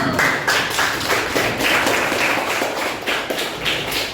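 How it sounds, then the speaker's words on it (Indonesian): Students in a vocational school classroom applaud together, a dense steady patter of many hands clapping at close range for several seconds, roughly even in loudness throughout. "Beri tepuk tangan dulu."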